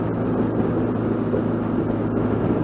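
A 2013 BMW R1200GSA Adventure motorcycle with the HP 16-valve engine, ridden along the Atlantic Drive. Its engine gives a steady, close, low drone mixed with wind rush, without any voices.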